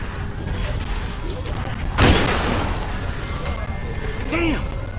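A single loud gunshot cracks out in The Walking Dead 400 Days video game, followed by a sustained ringing tail and another fainter metallic hit later, amid background noise and voices.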